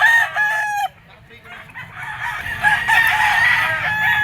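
A white-legged bull stag rooster at a gamefowl market crows loudly and close, a drawn-out call following a short opening burst.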